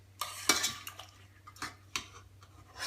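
A spoon scoops fish bones out of fish stock with onions, giving a few soft, irregular metallic scrapes and wet clinks against a pot over a low steady hum.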